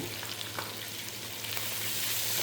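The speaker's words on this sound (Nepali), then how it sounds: "यसलाई फ्राई गर्छु होला मैले" Chilli chicken seasoned with red chilli and salt fries in a pan, a steady, moderately loud sizzle that swells slightly toward the end, with a few faint stirring ticks.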